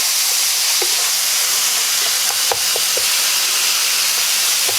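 Meat for chili browning in a pan, a steady loud sizzling hiss throughout with a few faint pops and taps.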